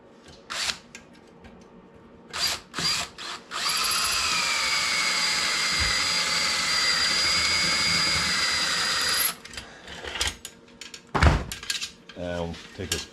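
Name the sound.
power drill drilling off a rivet head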